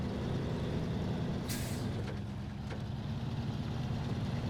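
A heavy truck in SnowRunner grinds uphill with a deep, steady engine drone, punctuated by a sharp air-brake hiss and a couple of fainter bursts.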